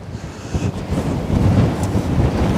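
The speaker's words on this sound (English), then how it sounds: "it is absolutely very windy today" Strong wind roars steadily into the microphone with heavy low rumbling buffets, loud and continuous throughout, with no voices, beside a parked car on the Westerschelde shore in the Netherlands.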